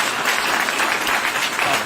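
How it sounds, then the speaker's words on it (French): An audience at a citizens' meeting in Paris applauds, a dense, sustained clatter of many clapping hands, loud and steady from start to finish. "Je vous prie de l'applaudir, s'il vous plaît."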